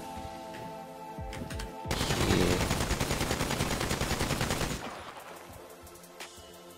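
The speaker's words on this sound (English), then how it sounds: "Let me shoot this instead." Rapid automatic gunfire from a gun in the video game GTA 5 at a gun store, a loud sustained burst of evenly spaced shots lasting about three seconds, with a few single clicks and shots around it.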